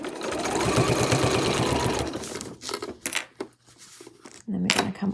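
A sewing machine runs a short burst of back stitching through fabric on an overlocker cover, a fast, close mechanical whir for about two seconds, followed by quieter clicks and handling noises.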